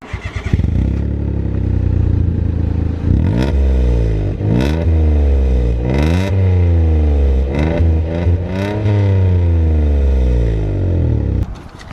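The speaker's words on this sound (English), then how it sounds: "Makes the car sound pretty cool, I think. Go give it a rev." A Citroen C1 with a loud modified exhaust idles, then is revved hard several times, each rev climbing and falling in pitch with a raspy, popping tone, close and loud with no talking.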